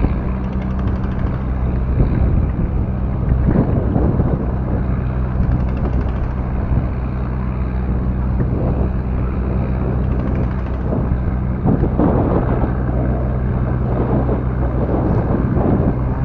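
A boat engine drones loudly and continuously at full throttle at a steady high pitch, working to pull a stranded boat off a sandbar, with heavy wind buffeting and splashing water over it.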